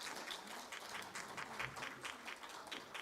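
A church congregation claps after an infant baptism. The applause is faint and distant, with individual claps popping out of a thin wash of hands, and faint voices murmur underneath.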